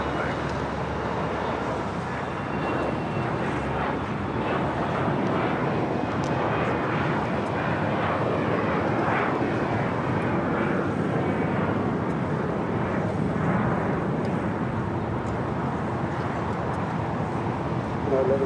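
A KLM Boeing 777-300ER jet at LAX produces a loud, steady broadband engine roar that holds for the whole stretch, with distant traffic noise and radio voices underneath.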